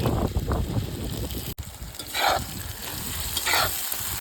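Meat frying sizzles in a pot over an outdoor campfire, mixed with gusty wind noise buffeting the microphone and occasional stirring scrapes.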